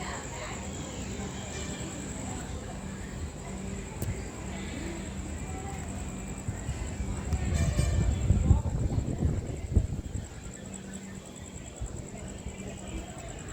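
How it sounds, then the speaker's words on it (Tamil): A train approaches in the distance at Nagercoil Junction railway station in Kanyakumari, a faint low rumble that swells briefly in the middle, with a steady high hiss and quiet ambient noise throughout. "தூரத்தில் ஒரு ட்ரெயின் வந்து உங்களுக்கு கேமராவில் தரலான்னு கண்ணில் தெரியுது"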